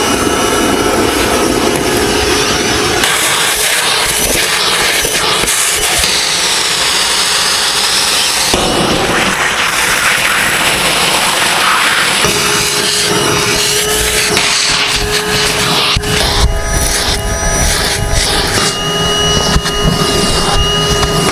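A loud vacuum cleaner roars continuously while sucking up deteriorating old carpet in the cab of a 64-year-old Kenworth truck, its tone shifting and rattling as the nozzle moves over the floor.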